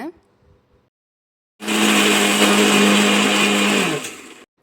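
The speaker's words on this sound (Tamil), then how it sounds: "நல்லா அரைச்சி இந்த மாதிரி ஃபைன் பேஸ்ட்டாக எடுத்து வச்சுக்கலாங்க" A kitchen mixer grinder whirs loudly for a couple of seconds, grinding onion with homemade chili powder into a fine paste, then winds down; brief talk comes before it.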